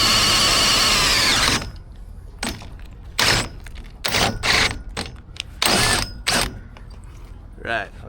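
A drill press whines loudly for about a second and a half, then stops, followed by intermittent mechanical clunks and bursts in a workshop while fabricating stabilizer forestays, with people talking.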